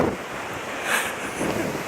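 Ocean waves surge and crash on the rocky west coast of São Miguel in the Azores, a broad wash of surf blended with heavy wind rumble on the microphone, close and loud, with no voices.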